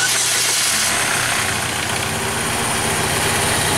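A Chevy Cobalt engine catches and runs with a misfire, a rough, uneven idle with irregular stumbling pulses, loud and close, following a brief cranking moment at the start.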